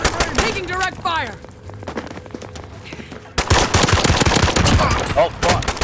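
Video game gunfire, with rapid bursts of sharp shots, some near and loud, others trailing off, broken by a short lull before heavy firing resumes, with voices talking and shouting over it.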